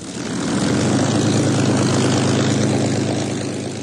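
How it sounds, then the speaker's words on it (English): A Supermarine Spitfire of the memorial flight at Coningsby taxis before an airshow crowd, its propeller engine a steady, close, throbbing drone that swells in and eases slightly toward the end. "taxis a Spitfire of the memorial flight at Coningsby to delight an airshow audience"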